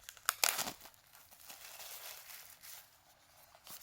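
Plastic wrapping on a Wicker Man 1973 steelbook being torn and crumpled, a sharp loud rip early, then softer crinkling that fades, close and quiet with no talk.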